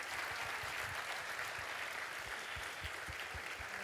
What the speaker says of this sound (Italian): Un applauso alla nostra conduttrice